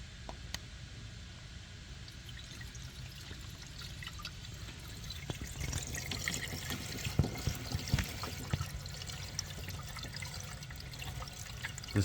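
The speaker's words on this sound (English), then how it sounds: "So you can use a funnel or pour straight from the jug." Windshield washer fluid pours straight from a one-gallon jug into the reservoir of a 2007-14 GM truck, a soft continuous trickle and gurgle that grows louder and splashier near the end, close and quiet.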